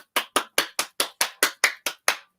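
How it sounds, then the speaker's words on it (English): A person claps in a steady rhythm, about ten sharp, evenly spaced claps, close and loud, with nothing else heard. "Clapping like a seal"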